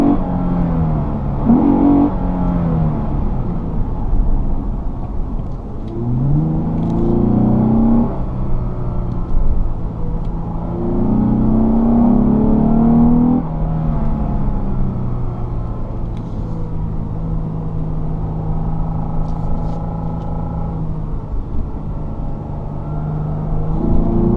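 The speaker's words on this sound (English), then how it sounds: "So, driving on the highway, noise levels are pretty low, definitely better than some of the cars I'm used to driving" A 2015 Lexus GS 350 F Sport cruising on a highway, its engine and road rumble steady and loud inside the cabin, with rising and falling tones as it shifts through gears and accelerates, no talk.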